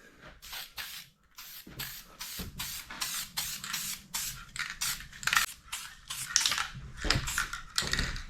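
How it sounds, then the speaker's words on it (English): A spray can lays a light dusting of adhesion promoter onto plastic parts of a 1983 Yamaha IT 175 dirt bike, with rapid short hissing spray bursts repeating close up in an uneven rhythm. "shoot it with this adhesion promoter"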